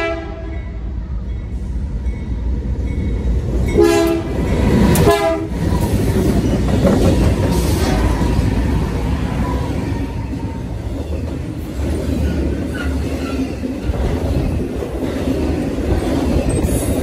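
A BNSF intermodal freight train passes Fullerton, its horn sounding briefly before the loud, continuous rumble and clatter of wagons rolling close by, with wheel squeal and rhythmic clickety-clack over the rails.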